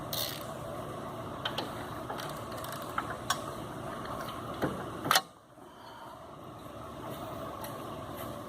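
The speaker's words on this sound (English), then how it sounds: "You will need a smaller ratchet for the inside" Ratchet working on the tie rod end castle nut of an S10 4x4 steering knuckle: a steady run of close, faint mechanical clicking with a few sharper ticks, ending in a brief louder clack before a quieter pause.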